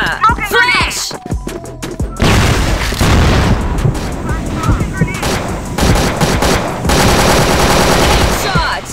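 A grenade goes off amid heavy automatic fire in the online shooter CrossFire, with loud booms and sustained bursts of gunfire and a voice shouting over the din.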